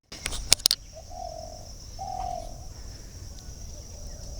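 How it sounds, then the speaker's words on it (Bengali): Birds call near a Ganges riverbank in the morning: two drawn-out mid-pitched calls, separated by a short pause, sound fairly near, with a faint high insect-like hum throughout. Sharp handling knocks come at the start, and no one speaks. "পাখির ডাক শোনা যাচ্ছে"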